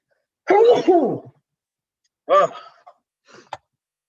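An allergy sneeze comes as a loud voiced burst, followed by a second shorter sneeze-like burst and a small throat sound, each separated by silence.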